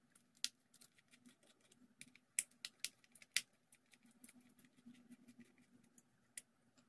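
Faint, close plastic clicks and light tapping patter irregularly as a plastic cover is worked off a Wltoys A959 RC car, several sharper snaps standing out over near silence.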